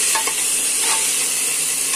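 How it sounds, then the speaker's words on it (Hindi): Green chillies and peas sauté in a pan for a halwai-style mixed vegetable sabzi, a loud close sizzle with a few spoon stirs and scrapes, no talking. "तो यहाँ पर जो हरी मिर्चें मैंने कट करी थी वो भी इसमें डाल देंगे, बस इसको भी थोड़ा सा सॉटे कर लेंगे।"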